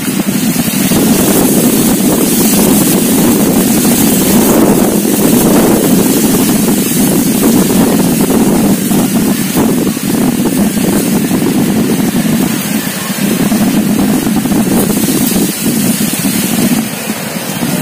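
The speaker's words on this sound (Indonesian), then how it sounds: "angin barat." Strong west wind on an open kite-flying field in Batam buffets the microphone with a continuous loud, rumbling roar that swells and dips slightly, with no voices.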